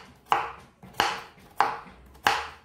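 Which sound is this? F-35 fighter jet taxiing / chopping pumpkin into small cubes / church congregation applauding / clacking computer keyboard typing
chopping pumpkin into small cubes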